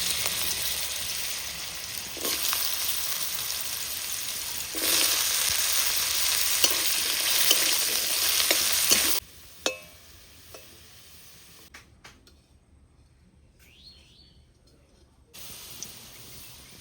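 Potatoes sizzle in hot mustard oil in a wok, a steady loud frying hiss that drops sharply partway through and then continues more faintly with occasional stirring clicks.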